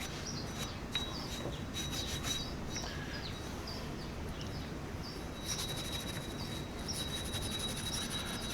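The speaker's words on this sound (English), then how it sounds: "once I hit it with the brake cleaner and just a little cheapo Harbor Freight wire brush here" A cheap Harbor Freight wire brush scrubs scaling rust off a brake drum, making a steady rasping scrape throughout, with birds and insects chirping faintly in the background.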